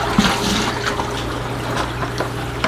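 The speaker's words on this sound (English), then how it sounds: "just let the water drain out of them a little bit" Seawater drains and trickles out of filter items pulled from a 600-gallon reef tank, a steady close splashing with a few small drips and gurgles.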